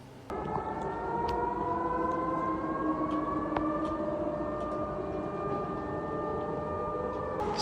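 Air raid siren in Russia warning of UAVs, a long steady wail with sustained rising and falling tones sounding across the night, fairly distant and carrying through background hum with no voices.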